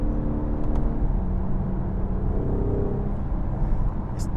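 Engine of a BMW 440i revving under throttle, a steady close rumble and whir with slight rises in pitch, loud and continuous with no talking.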